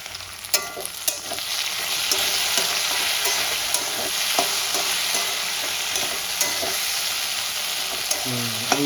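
Spring onion, potato and egg fry in a pan with a steady loud sizzle, broken by scattered clicks and scrapes of a spatula stirring throughout.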